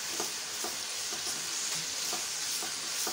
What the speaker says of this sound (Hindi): लहसुन अदरक का जो हरी मिर्चों का पेस्ट है वो डाल दें। अच्छी तरह से भुनाई कर लें इसकी।